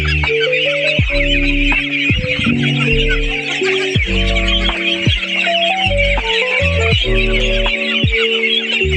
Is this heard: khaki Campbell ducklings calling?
yes